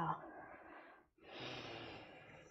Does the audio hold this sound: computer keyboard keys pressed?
no